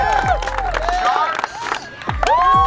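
An outdoor crowd at a Gambler 500 off-road event cheers, whoops and claps for a costume contest entry, with loud voices and shouts rising in bursts over scattered applause.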